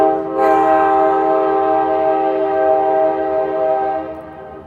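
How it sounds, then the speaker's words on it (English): A loud train horn blares in a long sustained chord close by, while the rumbling train passes underneath it and slowly fades. "I'm not going to compete with the train."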